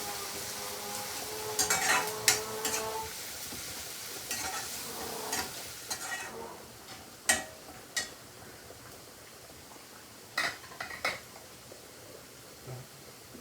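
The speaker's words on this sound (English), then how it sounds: "So let's add the garlic first. You just let the garlic soften a little." Garlic cooking in a pan while being stirred, a soft sizzle beneath repeated scraping and clinks of a utensil against the pan, with a brief louder burst of frying near the start.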